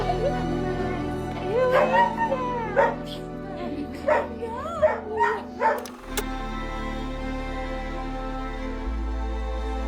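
A dog excitedly greets its family on returning home, giving high whimpers, yips and short whines in bursts, with an electronic drone underneath.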